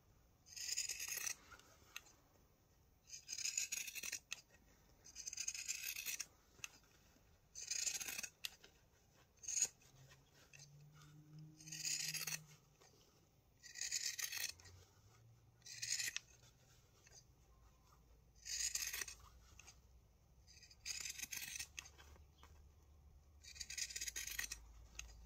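Scissors snip repeatedly around the edge of a fabric needlebook, trimming close to the stitching; about a dozen crisp cutting strokes come in a steady rhythm, near and fairly quiet, with no talking.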